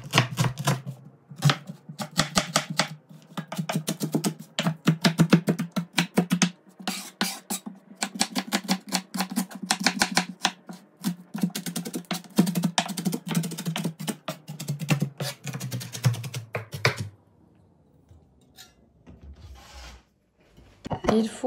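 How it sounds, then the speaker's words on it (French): A knife coarsely chopping an onion on a board, making a fast, close run of sharp, regular taps that stops near the end, with a voice talking faintly over part of it. "il faut prendre un oignon"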